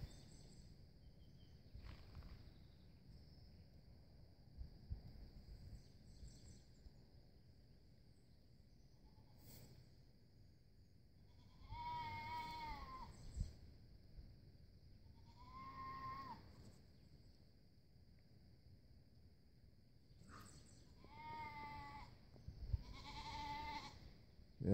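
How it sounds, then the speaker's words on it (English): A young male fainting goat, newly weaned, bleats in several drawn-out, wavering calls at intervals, fairly near, over quiet background with a steady insect buzz. "That's a little male goat that we've weaned. A little male fainting goat. He's not liking it being weaned."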